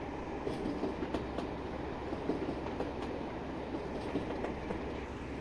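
Train wagons rolling over track in Train Simulator Classic on the Wherry Lines between Norwich, Great Yarmouth and Lowestoft, a soft rumble with regular clickety-clack wheel beats over rail joints, quiet and continuous.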